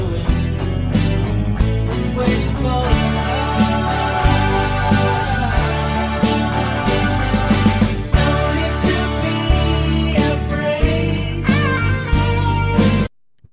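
A band plays a song, the electric guitar carrying distinctive effects in a continuous, full, loud mix with bass and drums that cuts off at the end.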